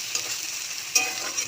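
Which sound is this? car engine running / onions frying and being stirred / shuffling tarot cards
onions frying and being stirred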